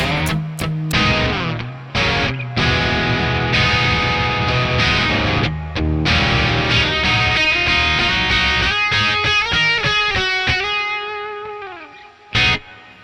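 Distorted electric guitar through a Joyo Atmosphere pedal on its church reverb setting: chopped chords, then sustained notes and a bending line ringing into a long wash of reverb, with a final sharp stab.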